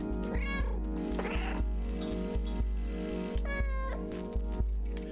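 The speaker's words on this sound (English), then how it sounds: "Meow. Meow." A cat meows twice, loud and close, in the video game Stray, over a steady electronic hum with regular soft thumps underneath.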